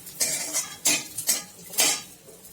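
Edible gum (dink) frying in ghee for methi laddoos, heard as three distinct metal spoon scrapes against the pan, close and clear, with little audible sizzle.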